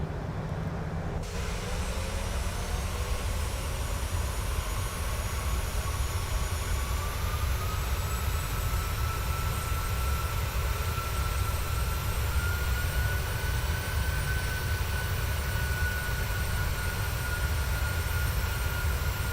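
The engines of a PMDG 737-800 in Microsoft Flight Simulator roar steadily from inside the aircraft, a loud, unbroken jet rumble with a slowly rising whine as power is added.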